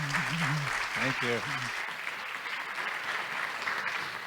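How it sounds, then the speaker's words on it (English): Audience applause for a speaker being welcomed onto a conference stage, with a steady, dense clapping from a sizable crowd throughout. A voice briefly speaks over the clapping at the start. "Sean, big applause to Sean, please"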